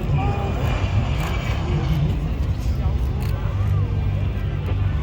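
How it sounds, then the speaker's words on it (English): An air force aircraft lands on a runway at an air force open day in Singapore, its engine roar steady and fairly loud from a distance. "we're coming back for a landing"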